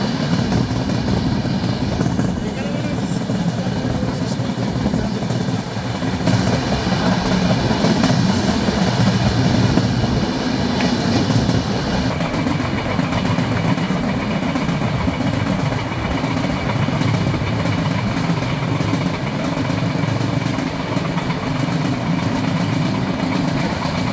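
The Ruposhi Bangla Express runs on its inaugural journey, with a steady, loud rumble of wheels on rails and engine drone that holds evenly throughout, heard from on board with no talk.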